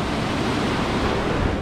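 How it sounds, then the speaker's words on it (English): A river along the Enchantments trail, heard as a constant, close rush of flowing water with a wind-like hiss and no voices. "Beautiful river."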